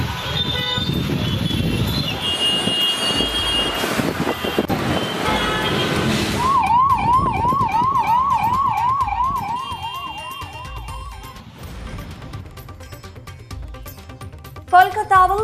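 Ambulance sirens wail in heavy traffic jammed near a temple crowded with devotees, arriving after a stretch of voices and street noise, then rising into a loud, repeating warble with traffic rumbling underneath.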